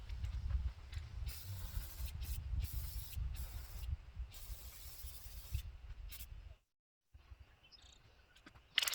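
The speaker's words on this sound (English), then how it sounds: "I've been doing a spray clear on these projects." A steady close hiss of an aerosol clear semi-gloss coat being sprayed onto a chainsaw-carved wooden piece, running in long bursts with a brief pause before spraying resumes.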